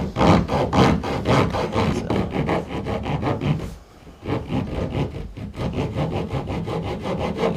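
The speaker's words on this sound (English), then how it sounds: "Hacksaw approach. I'm just going to start off the same way. Slowly get it so you have a groove." A hacksaw cuts a groove in wood flooring with steady back-and-forth strokes, close and loud, each rasping pass sharply defined. There is a short pause near the middle before the sawing resumes. No one speaks.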